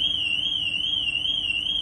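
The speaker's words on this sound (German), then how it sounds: "jetzt geht gerade die Alarmanlage vom Transporter nebendran los" A transporter van's alarm wails nearby at a summer festival site, a loud steady warbling electronic tone that continues unbroken throughout.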